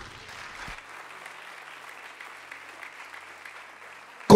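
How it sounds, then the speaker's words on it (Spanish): Steady applause from a church congregation during a sermon on the names of God, an even wash of many hands clapping after a brief spoken lead-in, ending in a sudden loud burst. "denle un aplauso a Dios"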